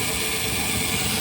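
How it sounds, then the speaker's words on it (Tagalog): A noisy air conditioning compressor on a Mitsubishi minivan runs as a steady, loud, broadband mechanical drone with a low hum underneath, continuous and close, with no talking. "yan yung compressor niya mga boss."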